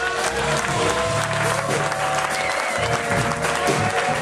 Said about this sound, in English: Give yourselves an applause